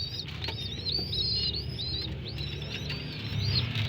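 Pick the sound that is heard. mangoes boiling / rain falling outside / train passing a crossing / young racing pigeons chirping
young racing pigeons chirping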